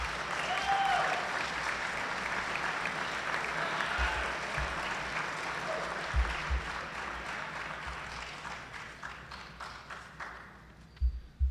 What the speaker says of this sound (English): let's give our seniors a round of applause